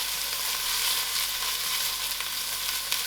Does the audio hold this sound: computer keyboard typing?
no